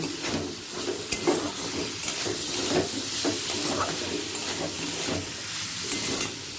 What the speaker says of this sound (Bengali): মশলাটা ভালো করে কষিয়ে নেব মশলা থেকে সুগন্ধ বেরোতে শুরু করে দিয়েছে